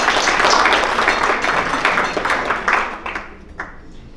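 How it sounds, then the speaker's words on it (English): Conference audience applauding to welcome shareholders and associates at the Tellace Vinery Conference 2018: a dense, loud wash of clapping that holds steady, then thins into scattered claps and fades out. "So I do invite your warmest applause to welcome every single shareholders and associates."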